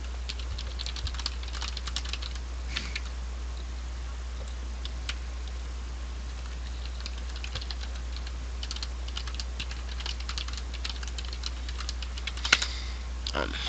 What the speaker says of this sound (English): I'm a bad typer in general